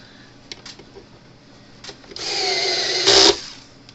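A power screwdriver drives screws into a Gallagher solar energizer, starting after a few faint clicks and taps with a steady whirring run of about a second that rises into a louder, higher burst before stopping abruptly.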